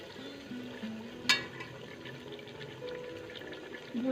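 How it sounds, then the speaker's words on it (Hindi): Green chillies sizzling in a pan while cooking veg biryani, a steady low frying hiss and crackle with one sharp pop partway through, close and moderately quiet throughout. "इसको अच्छे से भून लेंगे।"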